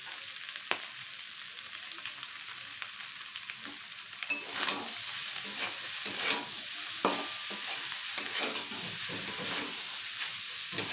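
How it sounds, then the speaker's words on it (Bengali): Cooked rice is stir-fried in a hot pan for egg fried rice, with a steady close sizzle and repeated scraping and tossing of the spatula throughout and no talking. "এইভাবে খুব ভালো করে একটু মিশিয়ে দিতে হবে"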